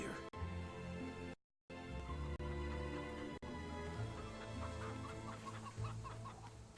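Chickens cluck repeatedly in short, busy bursts inside the fantasy video game Fable 3, layered over a dense, steady bed of game music and ambience that drops out briefly once.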